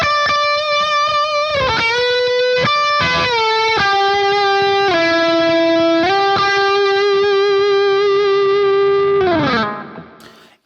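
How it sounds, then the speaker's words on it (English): An electric guitar plays a thick, singing distorted lead with boosted mids through an effects chain. Sustained notes bend and slide for about nine seconds, loud and alone with no voices, then fade out. "It's a thick singing lead sound that would cut through the mix really well"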